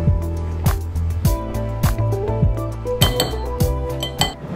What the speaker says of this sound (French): dans un autre bol, je vais mélanger les ingrédients secs qui est la farine et la poudre à pâte